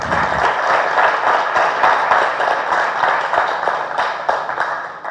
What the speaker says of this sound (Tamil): அவனுக்கு அந்த கலைஞனுக்கு பெரிய கைத்தட்டு கொடுங்க